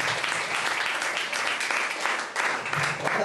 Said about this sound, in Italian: quindi un bel applauso subito per...